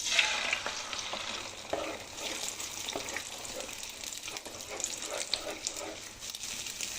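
Beaten egg fries in soybean oil in a wok, a steady crackling sizzle with faint scraping stirs, heard alone and fairly close throughout.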